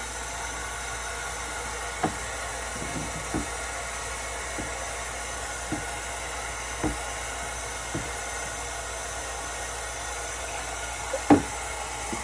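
A kallitype print is rinsed under running water, producing a steady soft hiss of flowing water with a few light knocks and clicks scattered through, close and even throughout.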